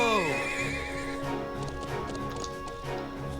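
A horse in the Trails of Cold Steel video game gives a loud, descending whinny, then hooves clip-clop in a steady rhythm on a hard path, close by and continuing after the neigh.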